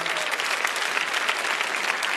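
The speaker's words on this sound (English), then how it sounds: "So big round of applause." A big round of applause at a Filmfare awards event honoring the Slumdog child performers, a loud, steady roar of many clapping hands filling the whole moment.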